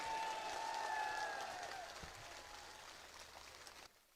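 Clapping from the crowd at an outdoor political nomination rally in Jalore forms a dense, patter-like wash of applause that gradually thins and fades before cutting off near the end.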